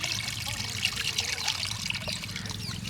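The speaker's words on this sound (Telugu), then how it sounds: "మొత్తం నీళ్లు పోసిన తర్వాత" Water poured in a steady trickle into a tamarind broth for Nellore-style boche fish curry, running continuously at close range with kitchen background noise.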